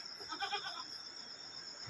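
Goats bleating in a colony pen, a short burst of several overlapping nasal bleats up close, then fading into quiet barn ambience.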